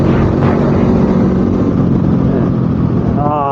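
A Honda SCL500 scrambler motorcycle engine drones loudly and steadily up close under rushing wind, holding a throaty, continuous pitch while riding.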